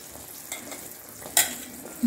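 Gram flour batter stirred in hot oil over low heat for Mysore Pak, a steady close sizzle with soft scraping strokes and a brief louder clatter near the end.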